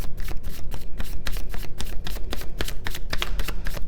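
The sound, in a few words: shuffling tarot cards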